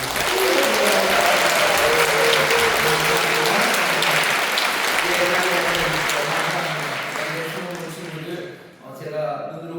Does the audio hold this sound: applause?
yes